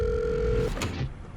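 A single telephone ring, a steady electronic bell tone held for under a second before it cuts off, followed by a brief clatter as the phone is picked up.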